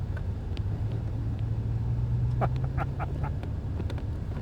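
A Chevrolet Corvette C8 Z51 sits on a race track with its engine running, a steady low rumble under faint clicks and brief high chirps, and no speech over it.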